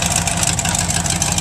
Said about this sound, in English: 383 stroker with a supercharged engine